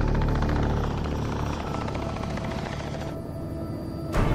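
Helicopter flying overhead during a wildlife capture operation moving rhinos, a steady loud rotor and engine drone throughout with no talk, easing slightly near the end before a brief louder swell.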